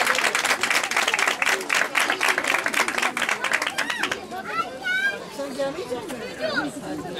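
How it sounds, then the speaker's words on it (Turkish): Theatre audience at a youth talent show applauding steadily for the first four seconds amid crowd chatter, the clapping then fading into scattered voices and children's calls. "Kocaman bir alkış."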